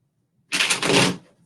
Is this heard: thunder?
no